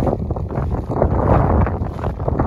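Strong crosswind gusting at 15 to 20 mph across an airfield runway, a steady loud roar of wind buffeting the microphone with broadband rumble, swelling slightly in the middle.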